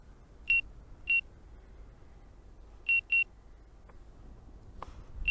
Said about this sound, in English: stop the beeping now, please